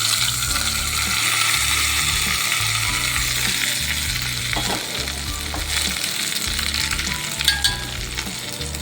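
Hot spiced tempering with asafoetida sizzles loudly and steadily as it is poured into a chutney, a continuous crackling hiss with faint stirring clinks near the end.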